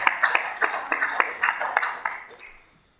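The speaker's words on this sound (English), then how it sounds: "I'll do a little round of applause for the boat show." A small round of applause at a city council meeting welcoming back the boat show, with a handful of scattered, fairly close claps that thin out and stop after about two and a half seconds.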